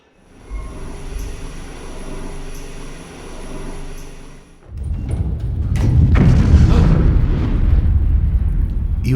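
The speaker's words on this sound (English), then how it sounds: "You hear a thunderous explosion." In a video game, a deep, rumbling explosion erupts midway through a steady low hum, leaving a loud, heavy roar that lingers to the end.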